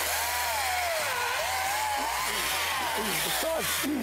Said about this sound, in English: The saw's bogging down a little bit because it's on the spongy side now because of the heat.